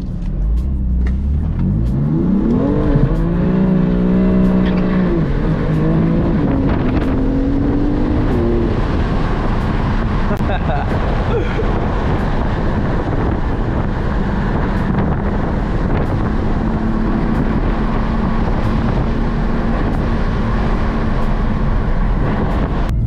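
BMW F80 M3 revving hard while drifting, its engine note climbing and holding under loud rushing wind, with tyres spinning through the sustained roar. The whole stretch is loud and close from inside the car, with no talking.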